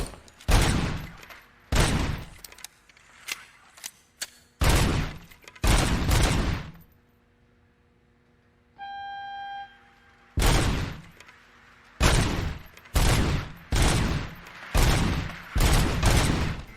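RoboCop's service weapon firing in RoboCop: Rogue City: loud bursts of rapid gunfire in irregular clusters, separated by pauses and a brief electronic tone, with no talking.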